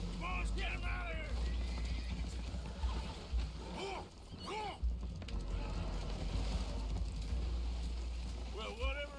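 Spooked horses whinny and snort in Red Dead Redemption 2, their calls rising repeatedly over constant talk, splashing and the low rumble of a damaged boat taking on water.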